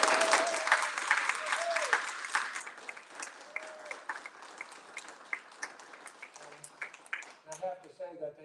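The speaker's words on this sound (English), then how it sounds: "let's give a round of applause for all the poets who did that" Audience applause at a poetry contest award ceremony honours the poets, a steady wash of many hands clapping that gradually thins out, with faint voices murmuring beneath it toward the end.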